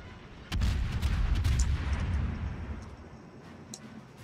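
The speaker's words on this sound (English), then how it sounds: "the noise this cannon makes when it goes off" A single deep naval cannon blast from the Moskva cruiser in World of Warships booms, then rumbles and fades over a few seconds, with faint crackling afterward.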